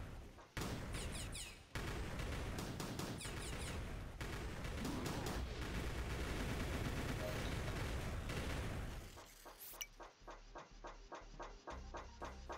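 Rapid-fire heat baller fireball weapon in the Moss Destruction video game: a loud, dense barrage of blasts that rolls on for several seconds, then thins into sparser, quieter bursts.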